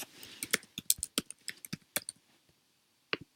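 An email address being typed on a computer keyboard: a quick run of close, crisp key clicks in an irregular rhythm, a brief pause, then one last keystroke.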